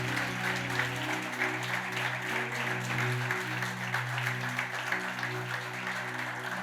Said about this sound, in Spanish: Vamos, apláudale si le va a aplaudir.